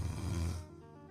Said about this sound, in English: Snoring happens when air cannot flow freely through your nose or through your throat.